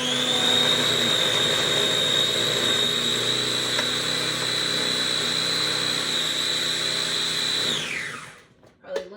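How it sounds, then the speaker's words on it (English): A food processor whirs steadily while blending pesto, a loud continuous motor drone with a high whine that runs for about eight seconds, then spins down and stops, leaving brief quiet. "for this tonight, I'm using the food processor"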